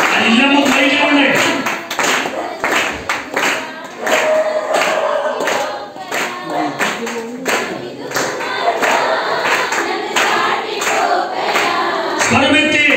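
A church congregation at a youth Christmas gathering claps along to a worship song, steady rhythmic claps under loud group singing and voices throughout.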